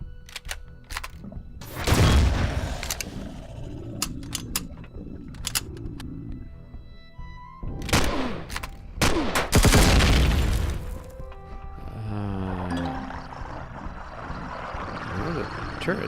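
Video game turret firing in sharp, loud bursts, several separate clusters of cracks spread across the stretch, with a person talking between them.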